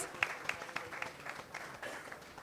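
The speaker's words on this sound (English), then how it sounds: "Give them a round of applause" Audience clapping at a quiz competition regional round, fairly faint scattered applause with a few sharp individual claps standing out, no talk over it.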